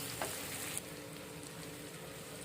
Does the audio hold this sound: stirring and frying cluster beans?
yes